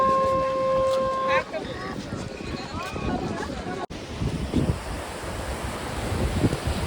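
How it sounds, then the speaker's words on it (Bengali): Sea waves break on the shore at Digha, a broad rushing surf roar heavy with wind buffeting the microphone, and a couple of brief horn-like tones near the start. "সমুদ্রের ঢেউয়ের এই আওয়াজটাই আমার মনে আলাদাই শান্তি আনে।"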